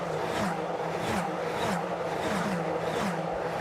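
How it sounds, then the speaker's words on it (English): Ferrari Challenge race cars roar past at Monza near the bridge and the old Parabolica banking, high-revving engines screaming in rapid overlapping passes, loud and continuous with repeated rising and falling pitch. "Just love the sound of those cars as they dip under the bridge"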